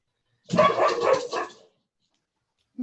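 A dog barks in a quick burst of several yapping barks lasting about a second, close and fairly loud, then falls silent before one short faint yip near the end.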